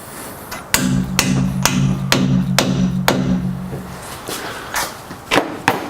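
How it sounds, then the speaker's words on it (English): A rubber mallet taps an insert into a stainless steel safety rail bar, giving a series of sharp, evenly spaced knocks, about ten in all, close and fairly loud, with some carrying a short ringing tone. "you're going to need your rubber mallet and you're going to tap it in there"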